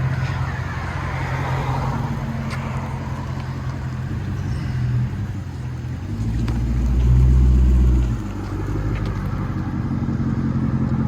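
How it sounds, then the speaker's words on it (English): A Dodge Durango fitted with Vibrant mid mufflers, an X-pipe and black 5-inch angle-cut tips idles with a deep, steady exhaust burble, then swells briefly into a louder, heavier rev before settling back to idle. "Dodge Durango with vibrant mids, X-Pipe, and 5-inch angle cut"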